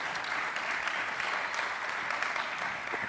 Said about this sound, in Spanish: pido un aplauso para él porque viene de Madrid